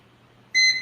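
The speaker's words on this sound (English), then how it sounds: "what you just heard is I am preheating the toaster" A toaster oven being set to preheat gives a single short, bright electronic beep, heard alone after near silence.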